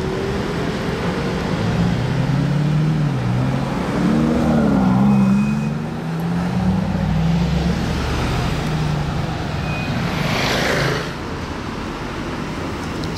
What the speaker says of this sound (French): Un V8.